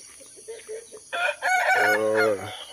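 A rooster crowing on a farm garden plot, preceded by a few short clucks, then one loud, close cock-a-doodle-doo that rises and trails off.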